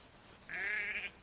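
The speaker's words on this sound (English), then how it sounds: "Ooh, sheep. I don't believe I've interacted with you before." A single sheep bleats in Assassin's Creed 3, one sustained, wavering bleat of about half a second, clear and fairly close over a quiet game background.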